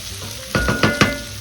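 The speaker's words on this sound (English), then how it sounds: "this is basically just stir frying your veggies" Vegetables for osso buco sizzle in a hot pot while being stirred, with three or four scraping, rustling strokes over a steady frying hiss.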